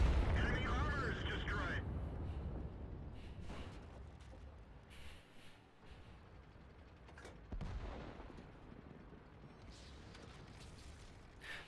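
Tank cannon shots in the World of Tanks video game, a few heavy booming blasts spaced across the stretch with rumbling decay, mixed with battle noise and game effects.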